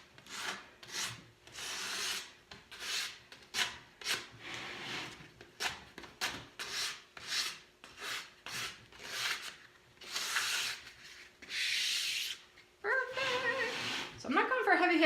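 Sandpaper rubs in quick rhythmic strokes over a chalk-painted wooden furniture leg for light distressing, steady scratchy passes close up, ending with a brief rougher scrape.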